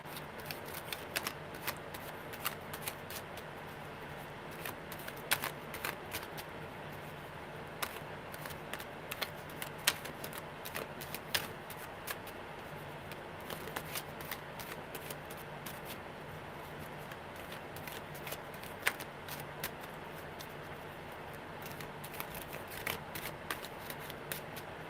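Tarot cards shuffle quietly and continuously near at hand, a steady stream of soft papery flicks and taps with no talking.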